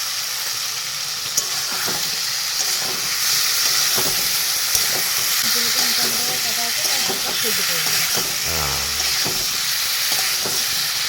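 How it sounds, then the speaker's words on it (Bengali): Boiled potatoes go into a frying masala for vegetarian alur dom and get stirred, bringing loud continuous sizzling and hissing steam with scraping stir strokes and a few sharp clinks. "এবার দিয়ে দেবো আমার সেদ্ধ করা আলু।"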